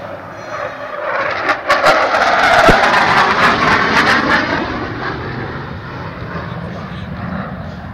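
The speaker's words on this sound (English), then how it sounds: "a high-speed run by the F-111." An F-111 jet makes a high-speed pass at the 2009 Australian International Airshow, a loud, broad roar that swells to a peak mid-pass and then holds steady as it carries on past.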